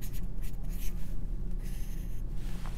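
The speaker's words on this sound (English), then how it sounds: "it makes more sense when you write it down" A pen writing a to-do list by hand on paper, with short scratchy strokes in several bursts, close and fairly quiet against a low background hum.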